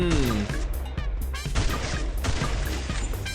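Kar98k rifle shots in a PUBG-style battle royale game, a rapid series of sharp cracks and echoing booms layered over game music and effects.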